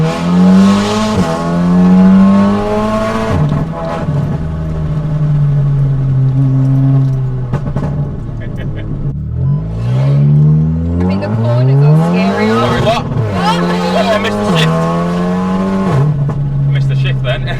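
A 500bhp VW Golf R accelerating, its engine note climbing and dropping through sweeping gear changes, loud and close from the cabin, with people talking over it.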